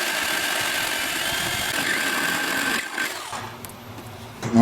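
A power drill whirs steadily at high speed for a few seconds, drilling a hole in a 1998 Ford Windstar, then winds down and stops.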